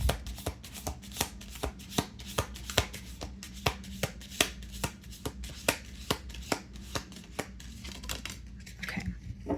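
A tarot card deck is shuffled by hand in a steady run of crisp, evenly spaced riffling snaps, close and fairly quiet, continuing for several seconds with no talking.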